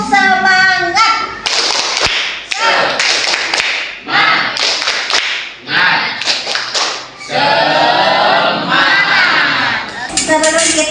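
A class of students does a rhythmic cheer clap in bursts of loud, fast clapping mixed with shouted chanting voices, with short pauses between rounds.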